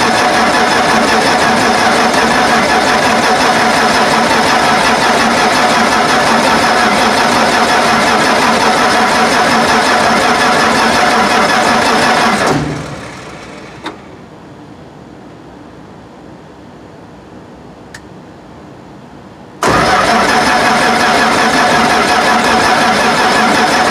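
A Massey Ferguson 300 combine engine runs loud and steady at wide open throttle, then cuts out abruptly for several seconds of near silence before roaring back to full speed.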